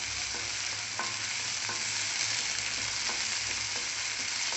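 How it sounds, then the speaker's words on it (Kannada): Pineapple gojju ingredients frying in a pan, a loud, continuous close sizzle with occasional soft stirring clinks and no speech. "ಫ್ರೈ ಮಾಡ್ಕೊಂಡು ಒಂದು ಟೂ ಮಿನಿಟ್ಸ್ ಫ್ರೈ ಮಾಡ್ಕೊಳ್ಳಿ"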